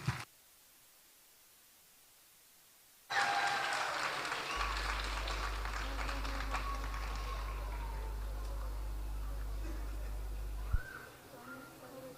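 An audience at a church concert applauds to welcome a choir, with loud, dense clapping that starts abruptly after near silence, holds for several seconds and then fades out.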